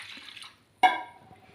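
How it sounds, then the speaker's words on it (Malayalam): Water poured into a cooking curry lands in a single short splash that quickly fades into a soft wet trickle, close by in an otherwise quiet moment. "എന്നിട്ട് വെള്ളം കുറച്ച് ഏറെ ഒഴിച്ച് കൊടുക്കാം."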